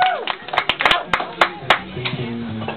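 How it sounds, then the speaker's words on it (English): A small audience claps at a Record Store Day 2012 gig by Pugwash, with scattered, uneven hand claps close by and a few louder individual claps, while a faint voice and low sounds continue underneath. "That lady there, give her a round of applause."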